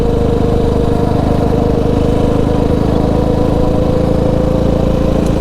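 A Yamaha Raptor 700 ATV with a Stage 3 build idles steadily at close range, its engine holding a loud, even, throbbing note with no revving or talk.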